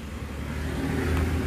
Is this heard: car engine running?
yes